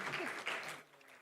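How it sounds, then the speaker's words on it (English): A short burst of applause from a crowd at a national report launch event in Nigeria, clapping fading out quickly, fairly quiet and distant. "Please, a round of applause for our CME"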